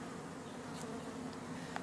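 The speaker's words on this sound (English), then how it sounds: "Loads of bees." Honey bees buzz in an opened hive being inspected, a dense, steady low drone from many insects close by, with no talking.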